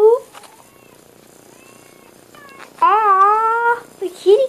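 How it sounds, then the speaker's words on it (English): A cat gives a drawn-out, wavering meow at close range, with shorter mewing cries before and after, over a quiet background. "Ah, the kitty cat."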